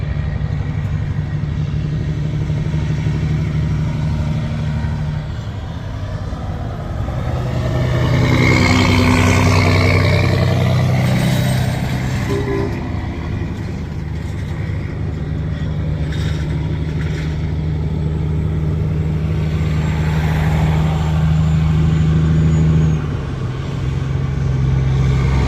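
Heavy hauling trucks rumble past on a road, a steady loud engine drone that swells twice as the big rigs go by close to the listener.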